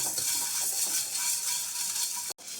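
Two tablespoons of black pepper dry roasting in a pan, a steady dense crackling sizzle with faint stirring, continuous and close, cutting out briefly near the end before resuming.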